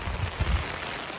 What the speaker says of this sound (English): We're gonna sit here until the rain will be stopped.